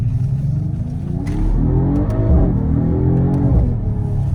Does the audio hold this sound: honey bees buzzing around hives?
no